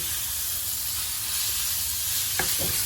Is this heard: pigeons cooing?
no